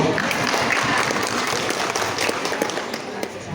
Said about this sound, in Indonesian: Mari kita mulai talk show kita hari ini dengan tepuk tangan yang meriah.